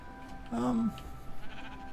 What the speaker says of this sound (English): Guess we'll sacrifice a sheep.